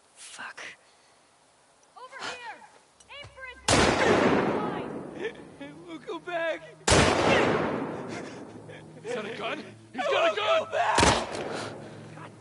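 Sharp gunshots in a video game, Ellie's story, two loud broadband cracks separated by a few seconds with speech and game sounds between them.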